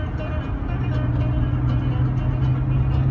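A car engine under acceleration while driving, giving a loud, continuous low rumble and drone that holds steady throughout.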